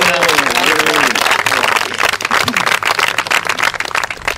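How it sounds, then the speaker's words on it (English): Wedding guests break into a round of clapping at the ceremony, a voice talking at first before dense, ragged applause takes over and carries on steadily to the end. "round of applause for that, I think"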